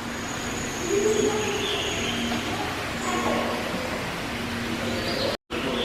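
Birds in a zoo songbird aviary call a few times, some of them soft cooing notes, over a constant outdoor hum with passing traffic.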